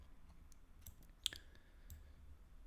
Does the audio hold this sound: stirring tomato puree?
no